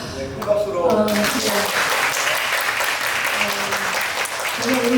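Applause from a lecture audience bursts out after a short stretch of speech and keeps going as dense, steady clapping from many hands, with a voice speaking briefly over it near the start and again at the end.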